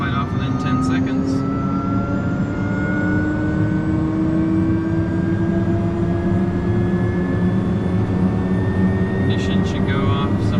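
Pilatus PC-12NG turboprop engine spooling up during start, a loud steady whine with a rising tone over constant engine roar, heard close from inside the aircraft.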